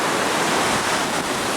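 Rushing floodwater pours through a normally dry area of a flooded camp, a steady, loud broadband roar with no break, close by and unaccompanied by voices.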